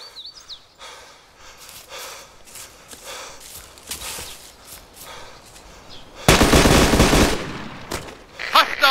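Gunfire in the military shooter ArmA 2, with scattered shots and bursts throughout and a loud sustained burst of heavy fire near the end.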